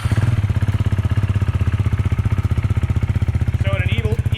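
Husqvarna Vitpilen 401 single-cylinder motorcycle idling close by, a loud, even chugging pulse with a brief voice near the end.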